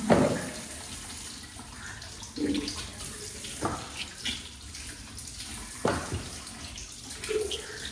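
Tap water runs steadily while pears are washed in a home kitchen, with intermittent splashing and clinks of the fruit being rinsed and handled up close.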